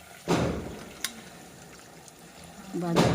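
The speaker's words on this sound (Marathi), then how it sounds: "आता याच्यात आपण दस्यासाठी गरम पाणी गरम पाणी टाकूया" Hot water is poured into a vegetable curry sizzling in oil. A close splash comes first, a brief clink follows, and a louder pouring gush sounds near the end over a low sizzle. No one speaks.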